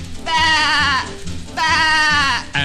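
Sheep on a mid-1960s Rocking Horse children's record bleat twice, two loud wavering baa calls each about a second long with a short gap between, followed by the start of a third.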